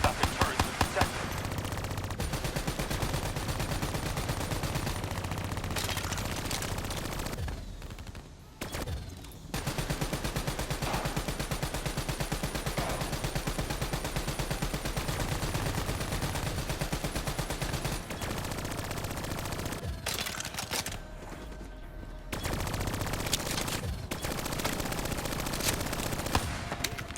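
Gunfire in the Call of Duty video game comes as loud, sustained bursts of rapid automatic fire. A couple of short pauses break up the dense, continuous shooting.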